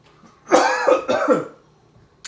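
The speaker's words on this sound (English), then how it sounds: "breathing in the dust is going to make you cough" Two sharp, close coughs in quick succession, set off by breathing in dust from a homemade blend of twelve peppers and garlic. A faint throat sound follows, then quiet.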